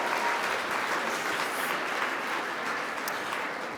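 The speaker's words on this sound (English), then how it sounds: "Applause, applause." Audience applause fills a luncheon room at an annual women's business awards event, a steady dense wash of many hands clapping at once, sustained and even throughout with no voices standing out.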